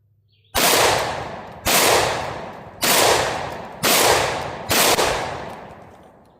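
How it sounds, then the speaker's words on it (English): Five loud shotgun blasts from a Mac 1014 fired from the hip with 3-inch birdshot, each a sharp crack with a long ringing decay, spaced about a second apart. "So I'm going to try some hip firing here of the 3-inch birdshot."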